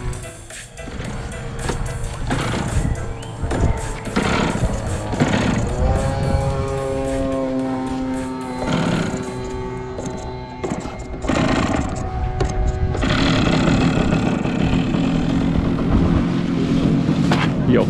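A large RC model seaplane, a Catalina-style flying boat, comes down onto a lake at a seaplane meet, its electric motor whining and shifting in pitch over steady loud wind and water noise.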